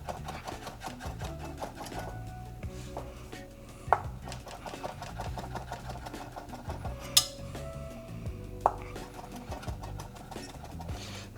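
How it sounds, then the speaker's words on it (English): A knife chops basil into tiny pieces on a board, steady rapid tapping throughout with a few sharper, louder knocks standing out, close and alone. "Got a little bit of basil. Just gonna chop it up into tiny little pieces."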